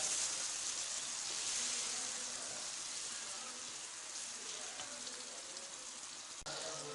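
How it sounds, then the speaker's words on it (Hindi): Tomatoes frying in a pan with green chilies for chicken ginger, a steady soft sizzle and crackle throughout, close and even. "और टमाटर भी ऐड कर देंगे और इनको अच्छे तरीके से फ्राई कर लेंगे टमाटर के गलने तक"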